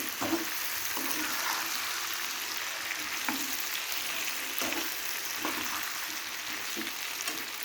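Potatoes cooking in a pan with fenugreek greens hiss steadily at medium heat while a spatula stirs them in occasional scraping strokes, close up, with no speech.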